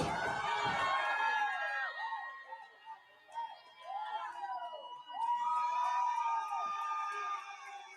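Wrestling arena crowd erupting in a loud pop, roaring cheers and whistles that swell, dip and surge again, heard distantly and without nearby talk.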